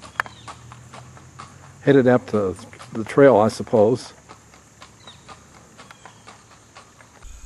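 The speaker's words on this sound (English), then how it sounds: "Looks like the rangers are out in force this morning on their horses" Park rangers' horses walk along near Big Ridge Lake, their hooves clip-clopping steadily at a moderate distance, while someone talks briefly over them.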